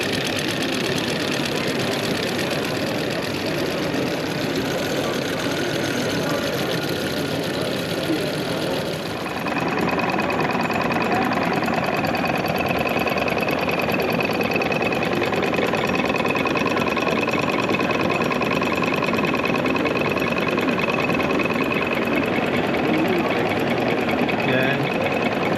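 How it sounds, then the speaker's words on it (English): Several small model hot air engines run together on an exhibition stand, making a dense, steady mechanical clatter and whir, with a brief dip partway through and faint crowd chatter underneath. "This stand always has quite a few engines running, as you can see, variety of hot air engines and stuff like that."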